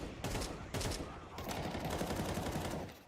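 Counter-Strike gunfire in a pro match between Spirit and MongolZ, with rapid bursts of automatic fire and several sharp shots in quick succession, fairly quiet overall.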